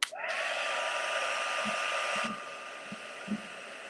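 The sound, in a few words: heat tool drying water-stamped card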